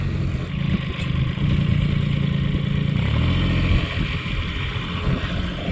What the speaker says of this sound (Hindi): ये आ चुका है ट्रैक्टर, मिनी ट्रैक्टर वाला बेड, और अब इस खेत में चलाएगा मतलब बेड मेकर चलेगा